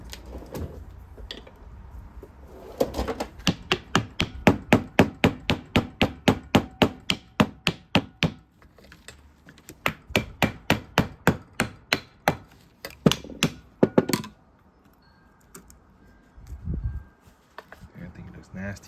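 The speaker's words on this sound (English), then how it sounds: "I gotta tap it with a screwdriver or something." Rapid metallic taps from a screwdriver striking the clogged carburetor of a 2005 Honda TRX450R ATV: a long, steady run of sharp, close knocks, then a pause and a second irregular burst of tapping.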